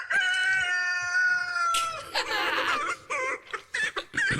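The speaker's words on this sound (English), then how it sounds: "The fucking chicken." A chicken clucks and crows loudly and close by, a long drawn-out crow followed by choppy, broken clucking bursts, with some laughter mixed in.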